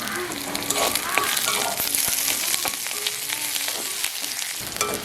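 Curry leaves, green chillies and onions sizzle loudly in hot oil, a dense, continuous close-up frying crackle with occasional stirring scrapes. No one speaks.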